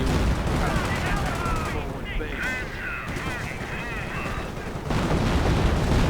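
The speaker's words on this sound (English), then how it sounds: "Wirbelwind also under fire and further artillery getting called" Dense, continuous battlefield noise from a WWII strategy video game, with booming artillery and gunfire layered throughout. The noise is loud and constant, swells near the end and runs under intermittent voice chatter.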